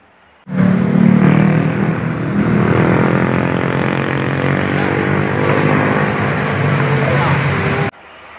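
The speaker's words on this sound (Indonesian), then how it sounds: "Ini mobil dam truk." A toy dump truck gives a steady, loud electric motor whir with buzzing tonal layers, starting suddenly and running for about seven seconds before stopping sharply.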